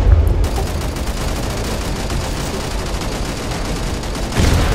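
Rapid gunfire in the sci-fi shooter Angels Fall First, a loud, dense, continuous automatic rattle with heavy low thumps at the start and end.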